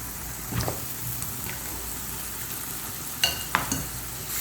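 Mutton Kali Mirch (black pepper mutton) sizzles gently in a pan, broken by a few scraping stirs of a spoon, close and fairly quiet with no talking.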